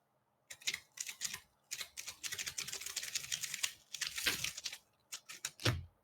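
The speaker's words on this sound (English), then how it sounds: "When you first did it, it sounded like a 70s, 80s electric typewriter." Rapid clacking keystrokes in uneven bursts with brief pauses, close and crisp, ending in a heavier thump, much like a 1970s or 1980s electric typewriter.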